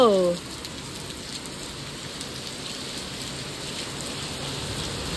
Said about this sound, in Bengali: বিশাল মারাত্মক জোরে বৃষ্টি পড়ছে